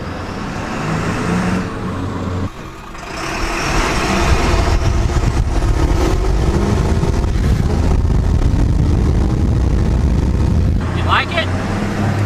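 Ford Super Duty pickup truck engine running through a newly installed 4-inch straight pipe exhaust, a loud steady idle rumble that holds for the whole stretch, with people talking over it.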